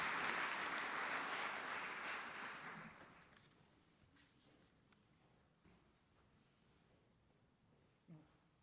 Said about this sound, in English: Can the audience please show their appreciation for the efforts of the councillors by clapping them?